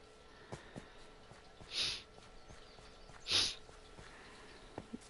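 Two nasal sniffles from someone with year-round allergies, spaced about a second and a half apart, close and fairly soft against a quiet indoor background with a few faint clicks.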